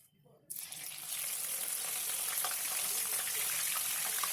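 Green chillies dropped into hot oil for an ivy gourd deep fry. After a quiet start, a loud sizzle erupts suddenly and settles into a steady, dense crackling fry.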